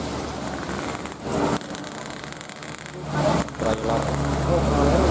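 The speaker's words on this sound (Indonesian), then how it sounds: "wah di sini mah hujan gede" Heavy rain pours on a mountain road at the Gentong incline in Tasikmalaya, a steady loud hiss with traffic rumbling underneath, and people talk over it at times.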